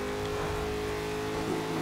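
A race car in Forza Horizon 2 drones and accelerates in a steady engine roar at moderate level, with no speech.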